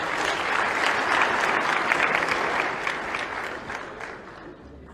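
Audience at a Zambian democracy forum breaks into loud, sustained applause, dense clapping that holds strong and then begins to taper off toward the end.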